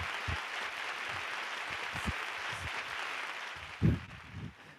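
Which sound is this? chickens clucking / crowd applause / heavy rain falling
crowd applause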